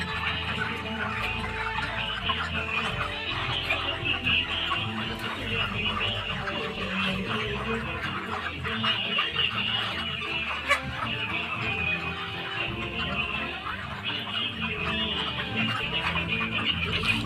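Broiler chickens clucking inside a poultry shed, a constant dense chorus of many birds close and far, with someone talking over it.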